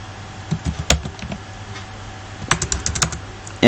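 Someone types on a computer keyboard while entering a name, class and roll number into a table in MS Word, with two short bursts of clicking keys separated by a quiet pause.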